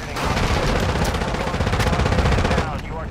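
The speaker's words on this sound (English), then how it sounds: "You are taking effective fire." Sustained automatic gunfire from Call of Duty, loud and continuous with rapid bursts and overlapping shots for most of the stretch, easing slightly near the end, with faint voices mixed underneath.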